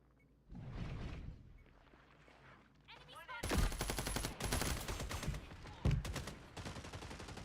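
Dense bursts of video-game gunfire from a tactical shooter match, rapid automatic fire and loud shots clustered in the second half after quieter scuffling, with no speech over the shooting.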